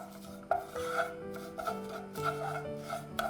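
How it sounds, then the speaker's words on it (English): Vermicelli being stirred with a utensil in a pan of ghee and oil, giving a steady dry scraping and rasping over the pan bottom, with repeated strokes and a low humming tone beneath. "Keep stirring so that nothing sticks to the bottom of the pan and it doesn't become burnt."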